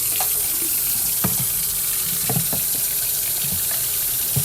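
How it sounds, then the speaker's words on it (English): Tap water runs steadily over a wet plate collodion photographic plate being rinsed, a loud continuous splashing stream with occasional knocks and shifts as the plate is moved, no voices. "So I'm going to really give it a good rinse here."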